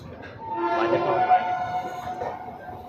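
The Budhpurnima Express with new LHB coaches sounds a long train horn at a station, a tonal blast that swells and holds for about two seconds over a rumbling background.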